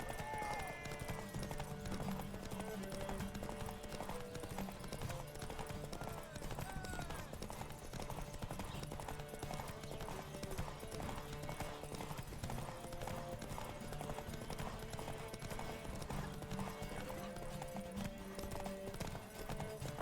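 Roach the horse galloping in the video game The Witcher 3, a fast, steady drumming of hooves under a game music bed, continuous throughout, with someone talking over it at times.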